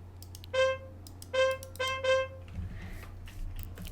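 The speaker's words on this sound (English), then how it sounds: "So that's what the trumpet sounds like if you play it." A trumpet sound effect from a Minecraft copper mod gives four short, quiet brassy toots in an uneven rhythm over a low steady hum, followed by faint shuffling noise.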